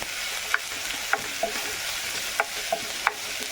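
Sliced onions sizzle softly in a pan for a mushroom curry, with a spatula scraping and stirring in a few sharp, scattered strokes.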